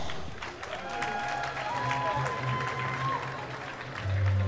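A crowd at a medal ceremony during the Dutch sprint swimming championships claps steadily in an echoing indoor pool hall, with faint cheering and someone talking over a loudspeaker.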